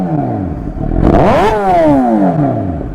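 A Suzuki GSX-R motorcycle with a Yoshimura exhaust starts up close by and revs hard, its engine note swelling to a loud peak and easing back down into a throaty idle.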